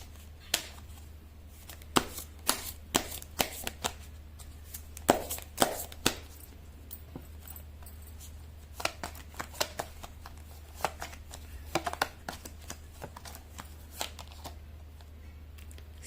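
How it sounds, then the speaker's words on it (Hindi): Tarot cards shuffled by hand in a quiet room, a long series of soft riffling snaps and taps at an irregular pace over a low steady hum. "तो कार्ड की शफलिंग,"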